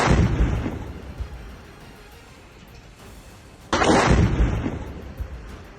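A missile explosion in Beirut, Lebanon: a loud, broad rumbling blast that fades over a couple of seconds, then a second heavy boom of similar power, heard at a distance outdoors.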